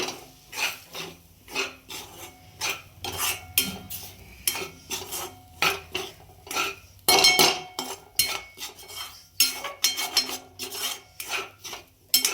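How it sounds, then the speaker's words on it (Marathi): Semolina (rava) being dry-fried for upma is stirred in a pan with rhythmic, close scraping and rasping strokes, loud bursts separated by brief pauses, with no voices. "रवा पण भाजून घेणार आहे, त्याच्यामध्ये फ्राय करणार आहे रव्याला."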